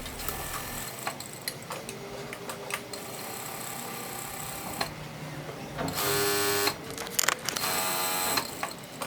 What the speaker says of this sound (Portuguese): eu vou juntar tecido direito com direito e vou costurar a minha gola para depois virá-la para o lado direito